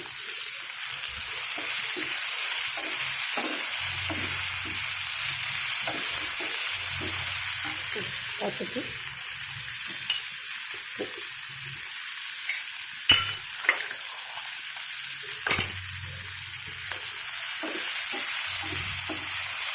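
Cucumber pieces with cowpea pods frying in a pan, a steady close sizzle throughout with stirring scrapes and a few sharper clatters, a voice speaking softly over it.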